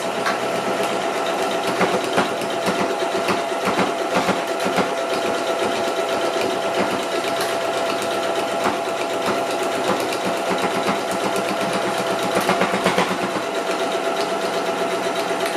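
A sewing machine running a straight stitch along a seam on a fabric bulk-goods bag, whirring and tapping continuously and evenly at close range for the whole stretch, with no speech.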